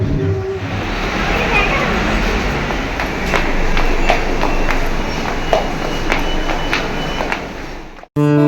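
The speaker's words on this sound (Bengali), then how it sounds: "তো এই যে ট্রেনে উঠে পড়েছি আর বসার জায়গাও পেয়ে গেছি।" Inside a moving passenger train, a loud, steady rumble fills the carriage, with periodic clicks from the wheels running over rail joints, before the sound cuts off abruptly near the end.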